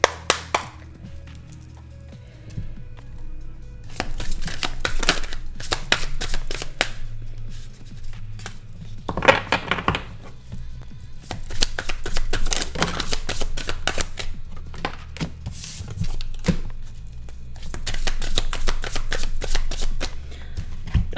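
Tarot cards being shuffled in repeated rapid riffling bursts, close and crisp, separated by short quiet pauses, with no talking.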